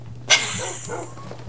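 Tamed dogs in Minecraft give one sharp, close bark, followed by a few softer yips and whimpers trailing off, over a faint low background hum.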